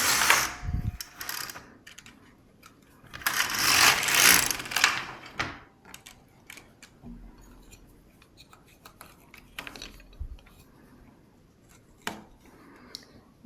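A knitting machine carriage slides across the needle bed of an LK150 with a loud mechanical clatter and rattle. Quieter clicks and knocks of the knitting machine follow.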